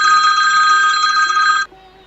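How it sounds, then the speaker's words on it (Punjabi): A telephone rings with a bright electronic tone that holds steady for about a second and a half, then stops abruptly, leaving a faint low hum. "ਉਹਨੇ ਚੱਕਿਆ ਫੋਨ ਮਾਰਿਆ ਮੋਦੀ ਨੂੰ"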